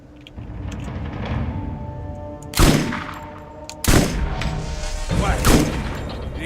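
Three heavy shotgun blasts in the video game Borderlands ring out at irregular intervals, each a loud sharp boom with a ringing tail, over a background of game ambience.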